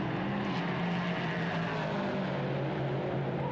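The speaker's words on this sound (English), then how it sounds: "Let's listen to that V8 engine power all of this burning rubber down into the road." A V8 prototype race car engine hums as it leaves the pit lane at the Nürburgring during a Prototype Cup Germany race, a steady, distant drone with no voices.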